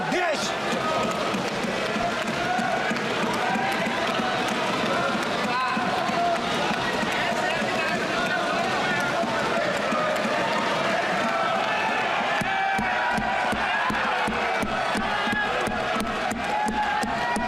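Members of India's Lok Sabha clap and cheer for railway employees with a dense, continuous mass of applause and shouting, while a loud voice speaks over it.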